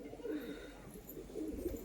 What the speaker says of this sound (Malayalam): ഇതാണ് വരുന്ന പ്രാവ്.